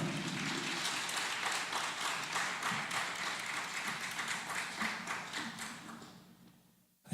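Audience applause welcoming a pastor at a Monday worship service, a steady wash of clapping from a crowd lasting several seconds before fading out, with faint thuds underneath.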